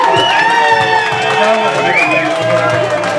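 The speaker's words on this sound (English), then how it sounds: "Listen to that. Crowd loving it." A large crowd at a boxing and Muay Thai fight night cheers and shouts loudly, with voices rising and whooping together in a continuous roar of excitement.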